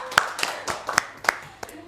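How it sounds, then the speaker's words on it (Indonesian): About six sharp, separate hand claps at an uneven pace from a classroom micro-teaching practice lesson. They are close and moderately loud against a quiet room. "tepuk tangan."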